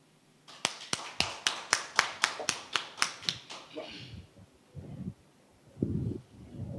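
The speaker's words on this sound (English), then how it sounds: "Round of applause for our president of the Dutch Caribbean," Audience at the Global Entrepreneurship Week 2020 opening ceremony in Curaçao clapping for the Dutch Caribbean president: a dozen crisp, evenly paced claps that fade out, then brief murmurs and a few quiet voices.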